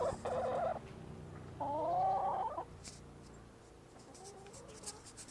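Chickens make a couple of drawn-out, wavering calls close by, with quieter clucks and faint background noise between them.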